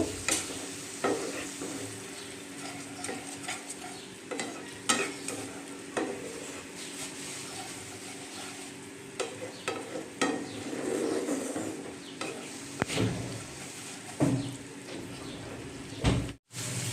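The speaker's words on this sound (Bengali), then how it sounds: "দিয়ে দিচ্ছি তার মধ্যে কাজু বাদাম আর পোস্ত বাটা। এটা আমি ভালো করে মিশিয়ে নেব।" Cashew and poppy seed paste being stirred into a masala in a pan, with steady scraping, stirring and a soft sizzle that runs throughout, plus a few sharper clinks of the utensil against the pan near the end.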